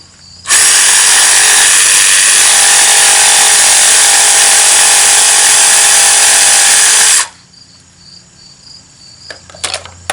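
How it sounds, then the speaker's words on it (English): Jigsaw cutting a wooden slingshot jig piece, a loud, steady buzzing cut running continuously for about seven seconds before stopping abruptly, leaving a quiet room with faint clicks. "So I'm going to cut this out with the jigsaw."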